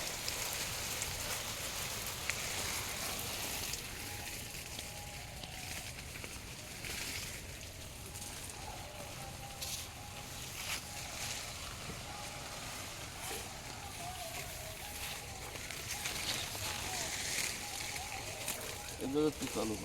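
Water splashes steadily onto plants and soil around mango trees, a continuous rain-like patter with occasional sloshing, moderately close and fairly quiet.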